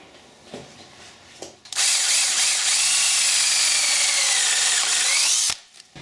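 A power drill bores a second hole through a metal plate for a Honda Trail 90 motorcycle project: a loud, steady high-pitched whine that runs about four seconds without a break, with a few faint clicks and handling taps before it starts.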